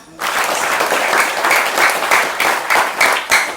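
Loud applause from the congregation at an Isra Mi'raj religious gathering, starting abruptly and continuing as a dense, steady clatter of many hands for a few seconds.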